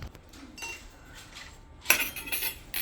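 A spoon mixes poha with chilli powder, turmeric and a pinch of citric acid in a bowl, giving light scraping and a few close metallic clinks that sharpen toward the end.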